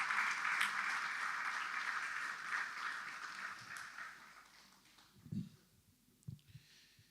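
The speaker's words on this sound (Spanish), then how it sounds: "Si quieres darle un aplauso," Church congregation applauding during a Spanish-language sermon, soft and fairly distant, fading out over several seconds, followed by a few faint breaths and small sounds near the microphone.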